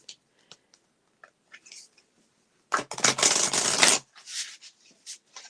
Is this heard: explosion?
no